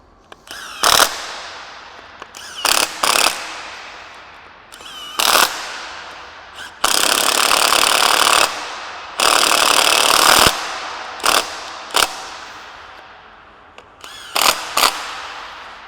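Impact wrench tightening M14 gearbox bolts in a crisscross pattern, loud close rattling hammer bursts of a second or so, repeated about a dozen times with short gaps, a few longer runs in the middle.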